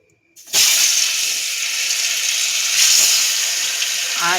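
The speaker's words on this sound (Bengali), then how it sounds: "এইবারে আমি ভাজতে বসাবো।" Fish coated in flour, salt and a little sugar frying in hot oil in a wok, a steady loud broadband sizzle and hiss that starts abruptly as the fish goes in and continues unbroken.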